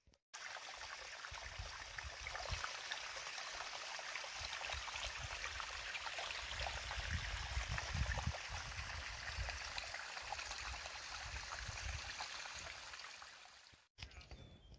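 A small river in East Oakland, with little pockets of water, flows as a steady close rushing and trickling that continues evenly for about fourteen seconds before a brief cutoff near the end.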